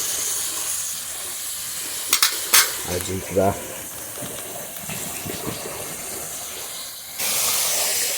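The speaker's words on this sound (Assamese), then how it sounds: "এতিয়া দি দিম গাহৰি মাংস ধুনীয়াকৈ ভাজিব লাগিব" Pork sizzling and frying in a pan over a wood fire, a steady close hiss with stirring scrapes and clatter partway through, a few words spoken, and a louder burst of sizzle near the end.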